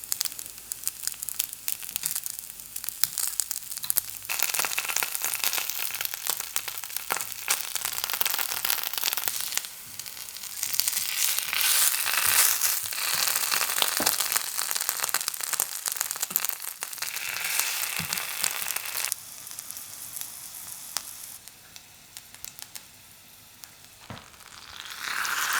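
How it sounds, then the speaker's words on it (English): Onigiri with miso fry in sesame oil, a loud, close, continuous crackling sizzle with occasional pops, easing briefly toward the end before rising again; no voices. "I then fry the onigiri in some sesame oil, and on the grilled side I add some of the miso mixture"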